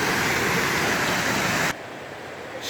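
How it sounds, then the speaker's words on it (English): A small waterfall in a mossy wooded valley gives a steady, full rush of falling water, close and loud, that abruptly drops to a softer, more distant wash near the end. "a really picturesque little waterfall"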